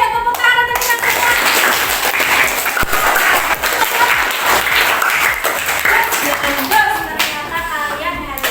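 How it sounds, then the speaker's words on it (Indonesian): A classroom of schoolchildren claps together in sustained, dense applause, loud and close throughout, with a few voices calling out over it near the start and end. "tepuk tangan untuk kita semua"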